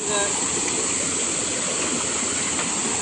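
Cold water of the Jatashankar river stream near the Jatashankar Mahadev temple in Junagadh rushes steadily, a loud, close, continuous broadband wash that does not let up.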